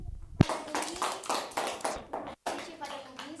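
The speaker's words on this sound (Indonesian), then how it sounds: "tepuk tangan" A classroom of children claps in rhythmic bursts of applause, a sharp tap first and then repeated rounds of hand claps with a brief gap, heard close and fairly quiet.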